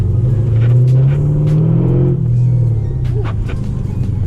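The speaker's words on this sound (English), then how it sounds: "So I'm currently driving around a parking lot." A Chevrolet Camaro SS engine rumbles steadily nearby, rising and easing as it rolls slowly around a parking lot, with a low throaty tone and no talking.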